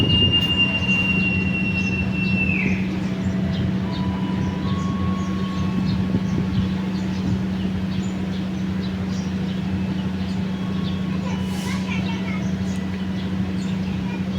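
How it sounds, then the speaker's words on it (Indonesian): Jenggala passenger train pulling out of Mojokerto station, a steady loud rumble of wheels on rails with a low drone, a brief high wheel squeal early on, and faint distant voices underneath. "berangkat kembali kereta api Jenggala."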